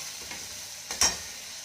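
Ingredients for Bengali alur dom sautéing in a pan with garlic paste, a steady soft sizzle broken near the end by a brief scrape of stirring.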